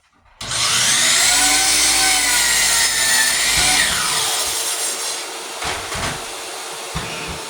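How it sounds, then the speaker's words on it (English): A miter saw fitted with a Tenru blade spins up and cuts through wood molding, a loud sustained whine and bite that then winds down into rattling and a few clunks as the blade slows. "I'm using a Tenru miter saw blade."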